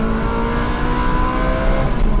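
Ferrari 360 Spider with manual gearbox, its engine revving high toward 8500 rpm, a loud, sustained, dense mechanical roar that holds steady throughout with no talk over it.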